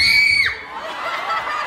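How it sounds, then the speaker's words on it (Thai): An audience at a live concert in Nan lets out a loud, high-pitched scream that drops away into softer crowd noise and shouting. "ขอฟังเสียงกรี๊ดคนนี้หน่อย"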